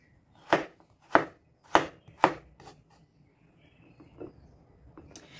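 A knife slices carrots on a cutting board: four sharp, evenly spaced chops up close, then a few softer cuts trailing off, with no talking.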